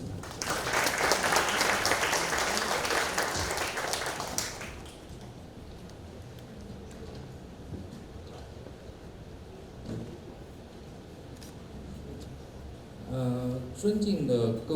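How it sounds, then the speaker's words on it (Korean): Applause from the audience at an opening ceremony of an international photography festival in Incheon, loud and dense for about four seconds before fading into quiet room noise, with a voice starting up near the end. "박수 부탁드리겠습니다"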